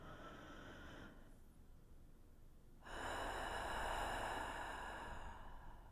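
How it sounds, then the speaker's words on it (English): A person breathing close to the microphone, with one breath that trails off into a quiet pause. A louder, longer breath follows, rushing in and out for a few seconds. "Sound number 5 is the sound of breathing, or in this case, the sound of JD breathing."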